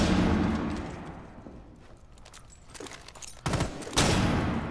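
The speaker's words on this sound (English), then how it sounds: "Stun grenade out." A stun grenade detonates in Rainbow Six Siege, with sustained loud game noise and rumble, then two sharp, bright bursts near the end, loud and close with no voices over them.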